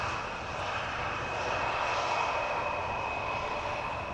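An Embraer jet arriving at Amsterdam Schiphol Airport gives a steady, distant engine roar with a faint high whine, holding level throughout with no voices.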